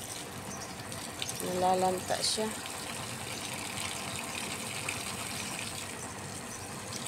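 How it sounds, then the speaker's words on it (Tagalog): Water pours steadily onto wilting sunflowers and other garden plants in a rooftop garden, a constant close gushing hiss throughout, while someone speaks briefly over it. "Kaya ang dami kong nilalagay na tubig"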